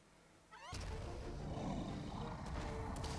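A cat-like creature from an anime episode gives a short rising cry, followed by a loud growling, roar-like rumble that swells and holds, with sharp bursts near the end.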